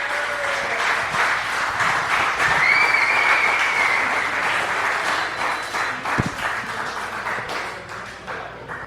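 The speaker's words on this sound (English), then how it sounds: "All right, guys, clap it up for your host, James Van Osdol." A live show audience claps for the host, a sustained loud round of applause that holds for several seconds, then tapers slightly near the end, with a few whistles mixed in.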